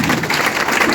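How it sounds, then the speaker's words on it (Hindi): A crowd at a corporate direct-selling business meeting claps loudly and densely, a brief burst of applause filling the room without any talk over it. "तो तालियां इसके लिए होनी चाहिए"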